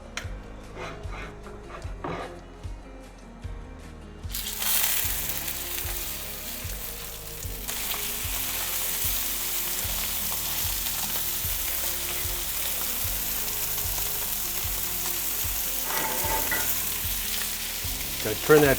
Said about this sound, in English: and we'll put them on the grill. Now I've already preheated the grill here. So I've got the oil smoking so we know it's hot enough.